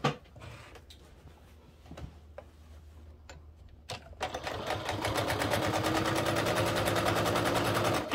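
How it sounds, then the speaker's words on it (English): Sewing machine base stitching around the fabric edges of a travel cord organizer, starting with a few faint clicks, then running steadily with a fast, loud mechanical rattle close by. "we're going to base stitch just around the edges"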